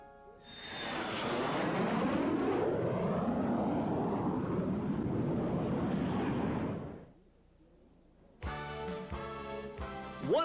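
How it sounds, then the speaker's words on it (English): Four Stearman biplanes of the Red Baron Squadron roar past at an air show in Dayton, Ohio, a loud sustained engine drone lasting about seven seconds, then fading out before other sounds begin. "One of the most impressive sights at any air show, these four beautiful steermen, the Red Baron Squadron, Ed."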